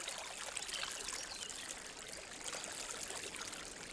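A forest stream home to fire salamanders flows steadily with a soft, continuous rush and trickle, faint and even throughout, with no voices.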